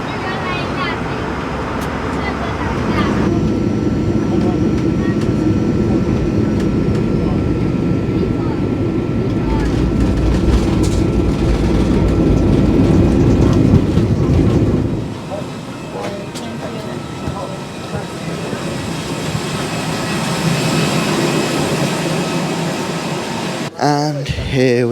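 Steady broadband roar of a passenger airliner cabin on descent into Paris Charles de Gaulle, loud and continuous, with the low rumble dropping noticeably partway through and a brief clunk near the end.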